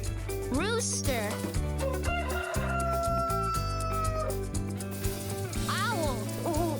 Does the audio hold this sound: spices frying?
no